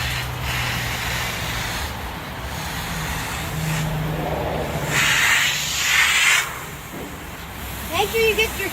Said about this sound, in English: So all you're doing right now is just rinsing your car.